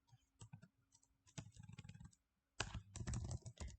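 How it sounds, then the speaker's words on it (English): A password is typed on a computer keyboard in quick close-up bursts of clicky keystrokes, a short pause, then a faster flurry of keys. "instead of the password, I'm going to type in the new password."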